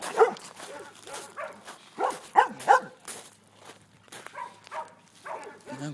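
A small puppy gives a run of short, high yips and barks in quick bursts, close by, with a few pauses and soft whimpers between them.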